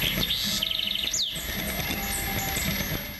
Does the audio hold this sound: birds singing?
yes